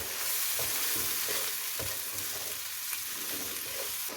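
Aloo gobi, potato and cauliflower, frying in a pan with spices and water as it gets stirred, giving a loud continuous sizzle broken by periodic scraping strokes of the spoon.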